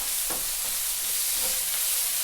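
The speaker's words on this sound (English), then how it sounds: "Next, the squid. We're going to get it all. We're going to start to cook that down." Squid cooks down in a hot pan for a squid bolognese, filling the moment with a loud, even hiss and a few soft stirring scrapes.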